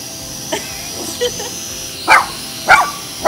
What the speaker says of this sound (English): The dogs are terrified.